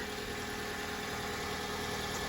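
A 2009 Hyundai Elantra's 2.0-liter Theta 2 dual-overhead-cam, four-valve-per-cylinder engine idles with a steady, even hum and low rumble. It runs alone without talk at constant moderate loudness.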